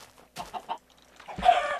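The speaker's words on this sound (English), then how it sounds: "here's another chicken" Minecraft chicken clucking in a game world, a short burst of close clucks followed by a louder squawking cluck.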